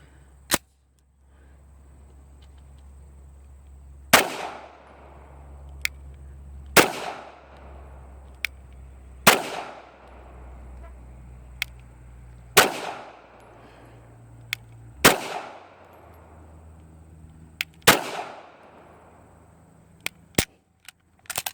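Sharp single pistol shots from a Sig Sauer P226 Nitron at a shooting range, about eight loud cracks spaced a couple of seconds apart with ringing decay and low outdoor rumble between, no talking.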